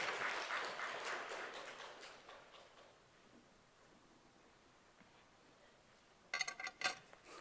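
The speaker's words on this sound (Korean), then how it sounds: "영광의 박수 올려드리며" A church congregation applauds warmly, the clapping fading out, followed after a lull by a few louder, closer claps.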